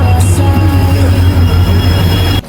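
A passenger train running on rails between Gossaigaon and Bongaigaon, heard from inside as a loud, steady rumble and hum with a faint squeal that cuts off abruptly near the end.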